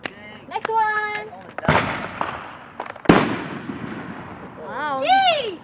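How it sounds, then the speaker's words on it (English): Backyard fireworks on July 4th. Two sharp loud bangs come a second or so apart, each trailing off in crackling, with children's excited voices and squeals before and after. "Look at our backyard fireworks."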